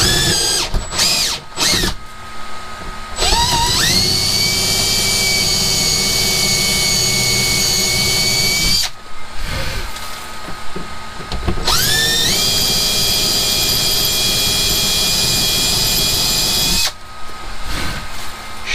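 A power drill bores into the holding lug of an IC lock core, giving long, loud, steady high-pitched whines in two sustained runs, each separated by short pauses and spin-ups.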